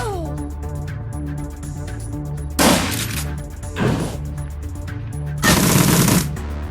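Rifle fire in the video game Shadowrun Dragonfall comes as three loud, rapid bursts spaced a second or two apart over a steady droning musical background.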